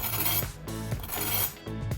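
Fried pork belly with crisp crackling skin, just pulled from the heat and draining on paper towels, gives off close, busy crackles and raspy ticks in uneven bursts, loud and alone.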